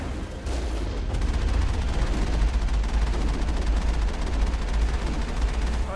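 Gunfire aimed at a turret in Mass Effect 1, a rapid, steady stream of automatic shots rattling continuously over a deep rumble for several seconds.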